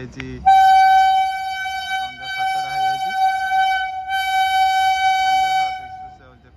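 A train on a railway line near a station sounds a long, loud, steady horn, breaking briefly before sounding again, with rumbling and voices faintly beneath it.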